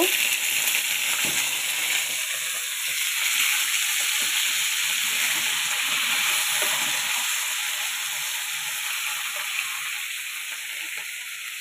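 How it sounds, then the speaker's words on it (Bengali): Pumpkin, flat beans and bitter gourd fry in oil with a steady, loud sizzling hiss, continuous and uninterrupted throughout, with faint stirring sounds underneath. "কুমড়ো, বটবটি আর উচ্ছে দিয়ে একটা ভাজা করব"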